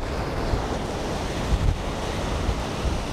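Strong wind buffets the microphone over a steady roar of surf breaking on a windy beach at Guajiru, Ceará, during the windy season, with continuous loud rumble and gusty low thumps and no voices.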